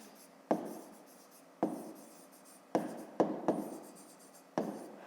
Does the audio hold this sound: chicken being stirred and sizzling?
no